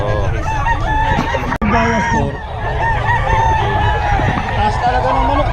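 A rooster crows loudly and close among other fowl at a market selling fighting roosters in Bocaue, with clucking and honking birds around it and people talking in the background.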